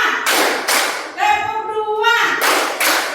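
A class of students clap together in short, sharp bursts, a few unison rounds of hand claps, with a voice calling out between them in a classroom.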